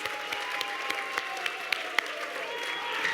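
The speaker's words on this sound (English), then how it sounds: "Keep the applause glowing, please." An audience claps at an awards ceremony for an honour roll, sustained applause with scattered sharper claps, fairly close and even throughout.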